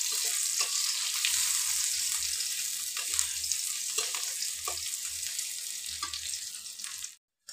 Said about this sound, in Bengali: কড়াইতে একটা শুকনো মরিচ দিয়ে দিলাম আর পেঁয়াজ কুচি দিয়ে দিলাম।